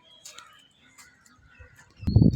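Birds calling outdoors on a morning in Taxila, scattered chirps and coos at moderate distance, with a louder low rumble at the end.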